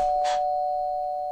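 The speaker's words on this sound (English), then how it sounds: "When did I get a doorbell from my office?" One electronic doorbell chime rings in an office, a brief bright strike followed by a clear sustained tone that fades slowly, heard alone and close.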